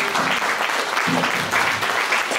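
A concert audience applauds after a jazz performance at a music school, with dense, steady clapping at close range and no break.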